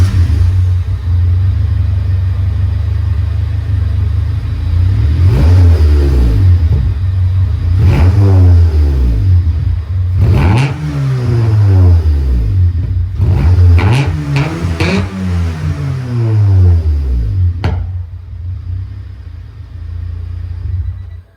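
A 1995 Honda Civic coupe on its stock exhaust before a header install, revving repeatedly from a loud steady idle, each blip rising and falling in pitch, several revs in succession close to the car, no voices.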